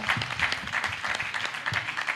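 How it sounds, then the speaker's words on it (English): An audience at a town hall on peace and national cohesion claps for a panel, a dense patter of applause at moderate volume that holds steady over the short stretch. "A big round of applause for we panel."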